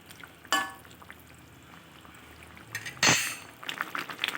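A spoon clinks against a pot while fried chhana bora are stirred into simmering curry, two sharp metallic scrapes and knocks a few seconds apart, followed by softer rattles and bubbling, close and quiet.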